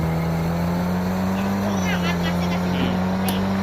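Motorcycle engine in a police chase video game, a steady droning hum that shifts pitch slightly midway, heard continuously under a faint game backdrop.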